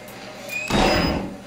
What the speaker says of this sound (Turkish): Bu kapıyı kim kapadı?